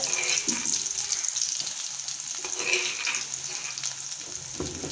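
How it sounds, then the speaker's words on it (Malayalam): Loud, continuous sizzling and crackling as crushed onion and chili fry in hot coconut oil, with occasional stirring scrapes and a few brief pops. "വെളിച്ചെണ്ണ ചൂടായിട്ടുണ്ട് അതിനകത്തേക്ക് ഉള്ളി മുളക് ഇടിച്ചിട്ടതാണ് ഞാൻ കൊടുക്കുന്നത്"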